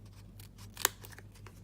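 Scissors snip through a piece of cardstock while making a Stampin' Up card, a single sharp cut near the middle with a few soft fainter snips around it, close and quiet over a low background hum.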